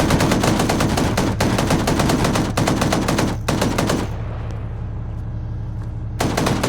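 Sustained machine gun fire in a military shooter video game, loud continuous rapid bursts that briefly break, then return after a short quieter stretch filled with lingering rumble.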